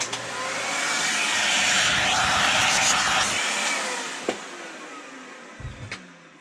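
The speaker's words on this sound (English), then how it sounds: "I'm going to use a vacuum." A vacuum cleaner runs close by over RC car parts, a loud steady whooshing roar that rises and then fades as it shuts off, followed by a few light clicks and knocks.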